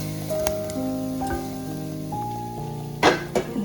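Golden shallots in a tempering sizzle as they are poured into a ripe mango curry, a Kerala-style mambazha pulissery, with soft crackling under sustained musical tones and a louder sizzling burst near the end.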